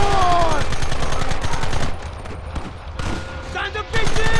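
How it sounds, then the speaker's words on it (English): Rapid bursts of gunfire in the Western game Red Dead Redemption, a loud, dense fusillade of repeated shots that thins out midway and then returns at full volume, with voices shouting over the shooting. "Open fire!"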